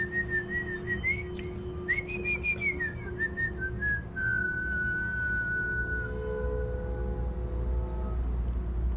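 A person whistles a wavering, sliding melody close by, rising and falling in pitch before settling into a long held note that fades out, with a low background rumble beneath.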